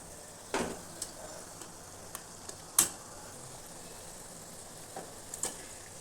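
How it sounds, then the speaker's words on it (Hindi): Pear-shaped samosas deep fry in hot oil over medium heat, a soft steady sizzle broken by a few sharp crackles and pops, with no talking. "अब हम चलिए फ्राई कर लेते हैं इसको।"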